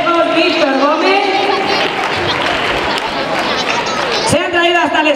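Strong applause from a carnival crowd for students on an outdoor stage at a Piñata Sunday festival, dense and steady throughout with crowd chatter mixed in and a voice rising over it near the end.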